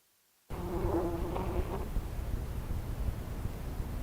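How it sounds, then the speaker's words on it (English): A bumblebee buzzes close by: a dense, continuous drone that starts suddenly after a moment of silence and holds steady to the end. "Here's a bumblebee."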